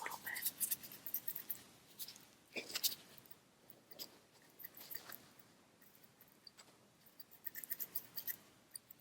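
Small scissors trimming eyebrow hairs up close, soft crisp snips in irregular bursts over a very quiet background, with faint low talk.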